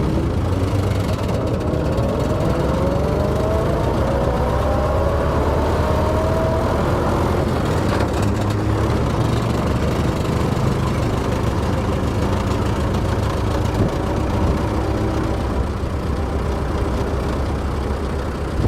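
A 1915 Dodge Brothers touring car engine runs with a loud, steady low rumble. Its pitch rises and falls as the car moves off in first gear, and it stays continuous for the whole stretch with no talk over it.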